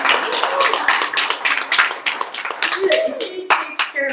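An audience claps in sustained applause for Ed Ferrero at a community gathering, a dense, close patter of hands that carries on for several seconds with talk mixed in.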